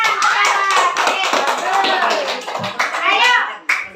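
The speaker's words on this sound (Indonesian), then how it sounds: "Tepuk tangan." Children clap their hands in a classroom lesson about worm breathing, the claps nearly continuous and blended with lively kids' voices and chatter throughout.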